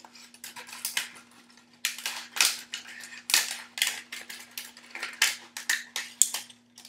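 Scissors snipping through a recycled plastic water bottle, a quick series of sharp, crisp close-up cuts and crackles in an uneven rhythm over a low steady hum.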